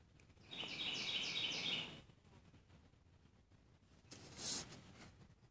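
A bird calling, a close, bright chirping trill of rapid repeated notes lasting about a second and a half, followed after a quiet gap by a shorter, sharper call.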